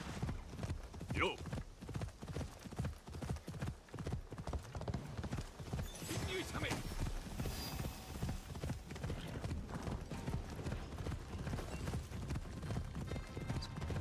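Horse hooves clip-clopping in Assassin's Creed Shadows, a steady galloping rhythm running throughout with a brief whinny early on and background game sounds, no talking.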